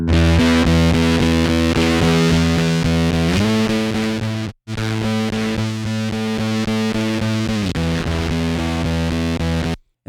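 A bass line runs through a Neve 1084 preamp and EQ pushed hard from its mic input, giving a thick, fuzzy, saturated distortion that sustains steadily, cuts out for a moment, then carries on loud.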